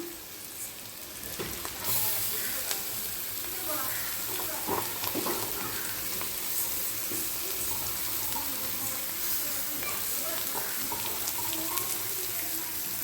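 Carrots sauté in a pan with a constant, fairly loud sizzle and hiss, accompanied by occasional faint stirring scrapes.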